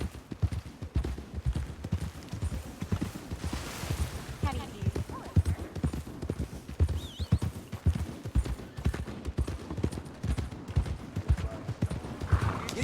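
Horse hooves galloping in Red Dead Redemption 2, a steady rapid clip-clop running throughout with occasional whinnies, mixed with game sounds and some talking over it.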